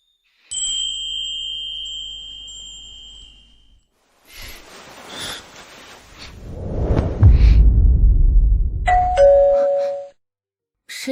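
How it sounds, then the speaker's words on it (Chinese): A harsh electronic doorbell chimes twice, first a steady two-tone ring alone in a quiet room, then a shorter tone near the end after a burst of rumbling movement. "这门铃声太刺耳了"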